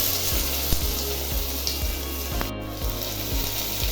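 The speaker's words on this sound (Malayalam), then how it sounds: "ഉള്ളി ഒന്ന് വാട്ടിയെടുക്കുക. കുറച്ച് ഉപ്പിട്ട് കൊടുക്കാം" Onions sauté with salt in a hot pan, giving a loud continuous sizzle broken by rhythmic stirring scrapes and taps of a spoon against the pan.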